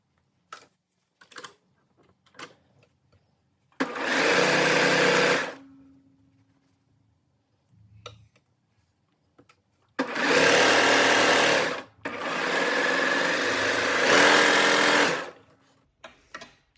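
Sewing machine stitching the straight-edge crotch seam of a bubble-style bottom, running in two bursts: a short steady whir, then a longer continuous run with a brief pause, separated by quiet handling clicks and taps.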